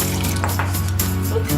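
A cup of hot water pours steadily into a bowl for pizza dough, a continuous close splashing stream over a low background hum.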